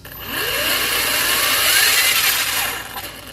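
Hobao RC engine running on a bench test, giving a loud, steady, buzzing whine for about three seconds, swelling slightly and rising in pitch before easing off, with no talking.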